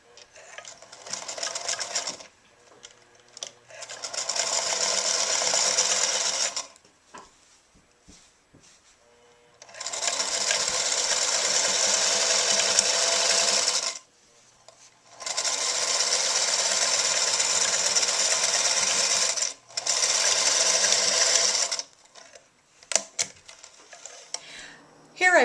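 A sewing machine runs in several sustained bursts as it stitches a knitted steek, with short quiet pauses between the runs and a steady whirring drone during each one.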